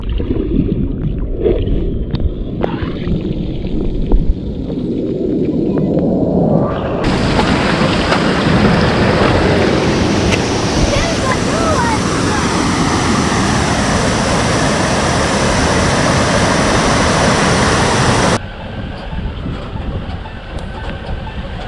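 A 4WD on a Cape York track drives through a creek: a low engine rumble swells into a loud, sustained rush of churning water, then drops back to the engine.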